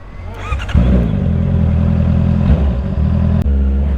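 A Renault Clio fitted with a new exhaust revs hard nearby, a loud rough engine roar that rises, holds steadily and dips briefly before surging again.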